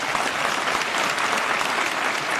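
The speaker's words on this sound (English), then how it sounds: "a round of applause for our panelists" Sustained applause from an audience at a chamber of commerce annual membership meeting, honoring the panelists; steady, dense clapping that holds at an even level throughout with no voices standing out.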